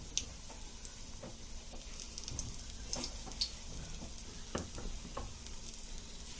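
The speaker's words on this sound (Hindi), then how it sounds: "देखिए ऐसा फ्राई करेंगे, एकदम फर्स्ट क्लास बनेगी।" Battered fish frying in a pan, a steady soft sizzle with scattered crackles and pops, moderately close and fairly quiet.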